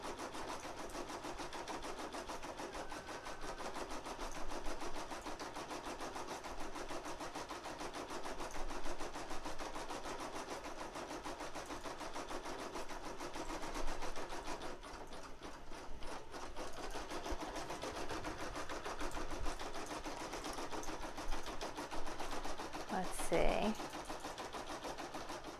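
An embroidery machine runs steadily, its rapid rhythmic needle stitching as it embroiders a koozie during a live beginner tutorial, heard at low level with a brief clunk near the end.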